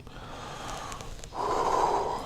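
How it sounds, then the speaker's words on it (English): A deep breath during a guided meditation: a soft, airy inhale about a second long, followed by a louder, breathy exhale, close to the microphone with no talking. "And let's take a deep breath."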